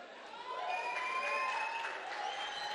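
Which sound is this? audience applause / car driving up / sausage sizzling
audience applause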